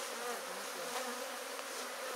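Honey bees hum steadily around a crowded hive full of honey, a dense continuous buzz of many insects filling the whole moment with no voices over it.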